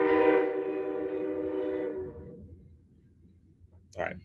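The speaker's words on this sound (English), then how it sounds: "There is a train coming. If it gets louder, we'll just pause and I'll pick up when it passes." A train passes right beside the Manassas train station, opening with a loud horn blast that holds for about two seconds, then fading to a low rumble with a faint click near the end.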